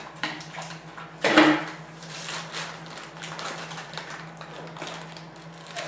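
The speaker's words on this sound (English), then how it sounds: "I'll cut into this here bag of oxygen absorbers" A bag of oxygen absorbers is sliced open during long-term food storage packing, giving a sharp crinkling, clattery burst near the start, then lighter rustling and handling noises close by.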